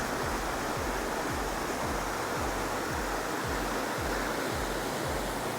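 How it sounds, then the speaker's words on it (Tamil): Floodwater surging through an irrigation channel fed from Iranamadu tank in Kilinochchi, with sluice gates opened during a flood, a loud continuous rushing roar with no talk. "பாருங்க எப்படி தண்ணி வருதாண்டு."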